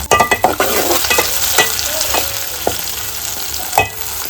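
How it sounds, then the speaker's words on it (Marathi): Onion and tomato sizzle steadily in hot oil with garlic and curry leaves in a pan, while a spoon scrapes and stirs in several sharp knocks; close and continuous with no talk. "तर इकडे ना आता कांदा टोमॅटोची फोडणी देऊन झालेली आहे."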